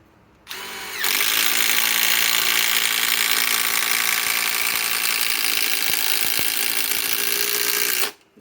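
A Metabo HPT WH18DDX sub-compact impact driver sinks a 6-inch timber screw in one long, loud, continuous hammering run of about seven seconds, then abruptly stops.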